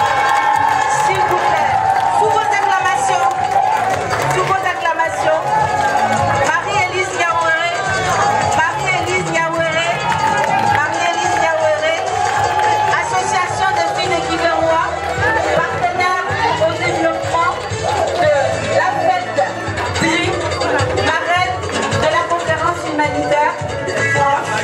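An audience cheers, whoops and chatters loudly as a performer makes an entrance, a dense, continuous crowd roar lasting the whole stretch.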